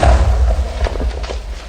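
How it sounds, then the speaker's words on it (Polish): A Creeper explodes in the Minecraft video game as a single loud, heavy low thud that opens the moment and then fades into a dull rumble. "noga Creepera wybuchła, wszystko tam wybuchło"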